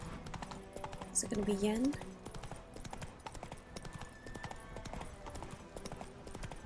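Hooves of Roach, the horse in The Witcher 3: Wild Hunt, clip-clop in a steady rhythm throughout, with a voice speaking briefly over them near the start.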